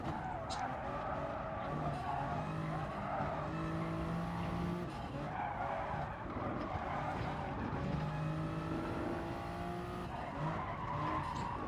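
Race car tires skidding and scrabbling onto gravel in Gran Turismo Sport, with a steady engine drone and tonal tire squeal running throughout the run-off.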